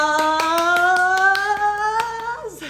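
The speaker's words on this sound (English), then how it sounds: "That round of applause" Steady, evenly spaced handclaps follow the end of a home workout, the claps sounding under a loud sustained tone that slowly rises in pitch and then drops away.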